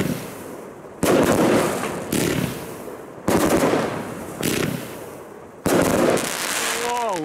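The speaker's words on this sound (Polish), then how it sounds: "I jest to finał w zasadzie naszego też sylwestrowego strzelania. 30 strzałów." A 30-shot angled fireworks cake (Tropica Phoenix) fires a rapid string of loud bursts in several volleys on New Year's Eve, with crackling booms overlapping and sharp excited shouts from people nearby.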